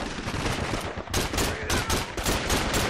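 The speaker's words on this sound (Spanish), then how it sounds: "¡Ametralladora!" Machine gun fire in the WWII shooter game Call of Duty: The Big Red One, with loud, dense bursts of rapid automatic shots that come in several close, overlapping volleys.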